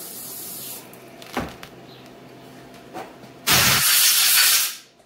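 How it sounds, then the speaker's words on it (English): An aerosol spray can hisses in a long steady burst after a couple of short knocks and clicks, loud and close, while cleaning an Echo 7310 chainsaw during a port job. "Spray this out."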